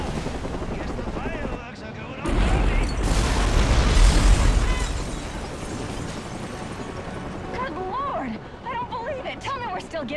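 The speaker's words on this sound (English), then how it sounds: "Explosion." A bomb explodes in Batman Arkham Origins, a loud rumbling blast that swells for a few seconds and then fades into background noise and talk.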